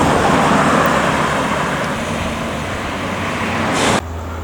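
Padang intercity buses run along a road, NPM Firkansa and ANS Koto Wasaga coaches on the Padang to Jakarta route racing each other, giving a loud steady roar of engines and tyres that drops sharply near the end as one passes.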